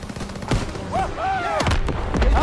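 Gunfire in the World War II shooter game Call of Duty WWII, with several sharp shots cracking out in quick bursts amid game noise while players talk over it.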